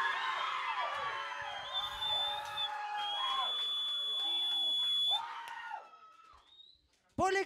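A crowd at a ballroom vogue night cheers and shouts loudly with whoops and high-pitched screams, then fades out before a sudden burst returns at the end.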